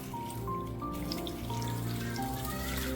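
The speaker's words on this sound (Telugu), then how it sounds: "దీంట్లో కొన్ని వాటర్ పోసేసి దీన్ని బాగా మిక్స్ చేయాలి" Water poured into a bowl of tamarind and rock salt for stuffed bitter gourd, a steady close splashing and trickling that runs the whole time with no talk.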